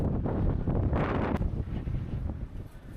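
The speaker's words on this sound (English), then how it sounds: "Yeah, it's definitely getting windy." Wind buffeting a microphone on a volcanic Icelandic coast, low rumbling gusts that swell and then ease into a rougher, uneven roar, with no voices.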